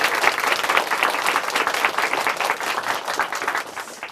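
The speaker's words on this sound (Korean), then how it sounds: "다시 한번 우리 자매님에게 박수 부탁드릴게요" An audience at a church gathering claps for a woman who has just shared her testimony, with warm, dense applause that swells early and tapers slightly toward the end, and no speech over it.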